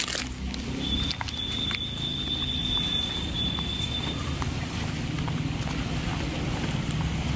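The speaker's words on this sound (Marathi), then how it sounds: "आज पाऊस खूप जास्त आहे पण दररोजच्या पेक्षा." Heavy rain falling, a dense steady hiss of drops on surfaces lasting throughout at moderate loudness, with a few faint scattered taps and a thin high tone early on.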